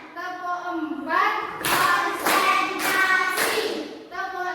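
Schoolchildren in a classroom clap a counted pattern: four loud, evenly spaced group claps close by, framed by voices calling out before and after.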